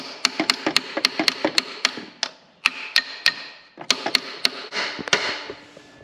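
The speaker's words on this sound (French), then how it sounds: "Démontage de la poulie au marteau" Sharp metallic hammer blows knock a pulley off a taxi engine during timing-belt work, landing in an irregular series of close, ringing strikes with brief pauses between bursts.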